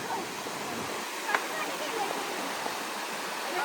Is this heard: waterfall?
yes